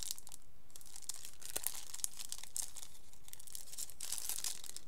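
Plastic packaging for AliExpress stencil sheets crinkles and tears in a run of quiet, close rustles and crackles, with no one talking.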